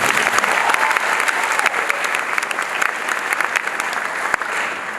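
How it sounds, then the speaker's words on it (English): A loud, dense round of applause from the crowd at a 2019 Canterbury High School graduation, sustained clapping at an even level throughout, with a few sharper claps standing out and no speech over it. "Another round of applause for them."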